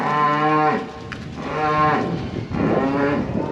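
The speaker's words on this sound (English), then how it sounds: "So we're letting out the cows this morning that have been in the shed for a couple of days." Cows let out of a shed in the morning moo loudly and close by, three long low calls in a row with brief pauses between them.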